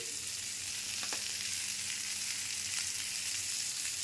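Eggs fry in oil with turmeric and salt for an egg curry, a constant close sizzle with a couple of brief stirring knocks partway through.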